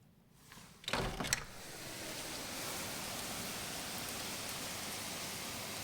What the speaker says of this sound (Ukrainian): щоб ви почули цю зливу, шалена злива